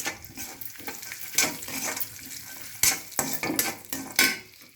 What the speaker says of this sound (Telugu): ఇప్పుడు మనం కాజు ఫ్రై చేద్దాం